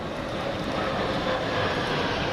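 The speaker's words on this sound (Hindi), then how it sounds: "सेना का विमान।" An army aircraft passes low over Leh while dropping flowers on a hospital, its engine a steady, loud broadband roar that holds for the whole stretch with no voices.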